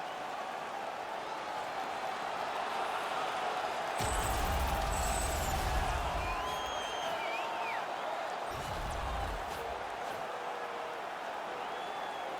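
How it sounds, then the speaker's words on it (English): Stadium crowd in an Olympic hockey video game franchise mode, with Switzerland playing the USA, keeps up a steady distant roar that swells twice into louder cheering, with no talk. "And the crowd back alive here inside the stadium."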